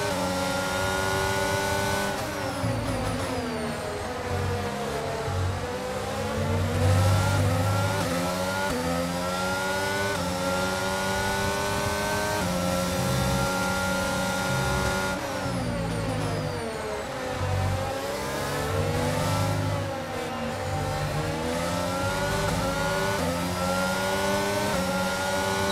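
A McLaren Honda Formula 1 car in the racing game F1 22 screams through gears, its high engine whine rising and falling continuously with shifts and throttle changes, loud and unbroken.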